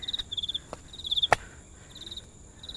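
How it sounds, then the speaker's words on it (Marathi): Crickets chirp in repeated pulsed bursts on a morning trek up Karnala Fort near Panvel, with one sharp click partway through and no one talking. "रात किडे"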